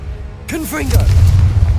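A Confringo fire-blast spell in Hogwarts Legacy goes off as a single deep boom followed by a rumbling tail, with a voice speaking just before it.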